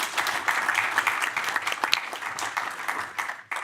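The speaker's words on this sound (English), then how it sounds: "So let's have a round of applause." An audience at the Riga Conference gives a moderate round of applause: dense, even clapping from a seated crowd, somewhat distant and fading out near the end.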